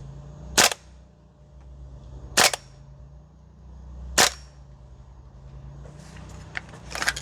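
An MWS-style SCAR L gas blowback airsoft rifle fires on the range with weak-pressure mags, giving three evenly spaced sharp cracks, close and loud, followed by softer clicking and rattling handling noise.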